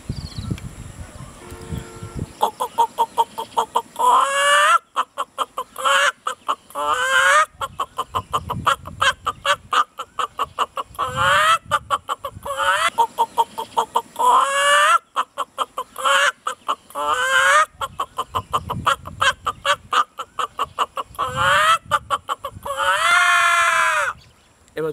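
A human voice imitates a hen clucking, a long run of rapid, rhythmic clucks in repeated bursts, loud and close, ending in a drawn-out squawk-like call, with no other sound behind it.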